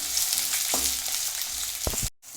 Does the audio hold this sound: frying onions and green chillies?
yes